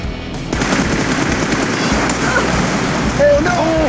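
Rapid video game machine-gun fire rattles loud and continuous, close up, with a few brief tonal effects near the end.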